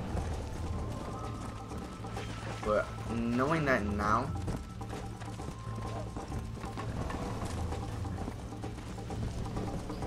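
Horse hooves clip-clop steadily in the Western video game Red Dead Redemption as the horse runs a race. Someone talks over the fairly quiet hoofbeats, and a short mechanical rattle is heard partway through.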